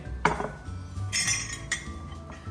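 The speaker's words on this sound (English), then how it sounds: "So let me get the plate" A plate is lifted out among other dishes, giving a few short ceramic clinks and a light rattle of crockery close by in a quiet kitchen.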